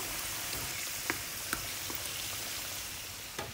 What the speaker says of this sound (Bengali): ভেজে নেওয়ার সময় চুলার আঁচটা খুব বেশি না বাড়িয়ে অল্প আঁচে ভেজে নিতে হবে